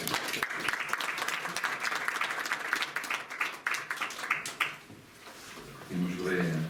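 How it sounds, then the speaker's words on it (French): At a municipal council meeting, a room of people breaks into dense, steady applause that carries on for several seconds, then fades as a voice starts speaking. "Je crois qu'on peut applaudir."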